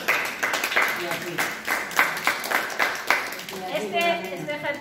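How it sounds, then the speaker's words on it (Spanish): An audience at a gentle gymnastics class for people with limited mobility claps for a participant, a burst of rhythmic clapping over a few seconds with a voice speaking over it near the end. "Y un aplauso por ese chico"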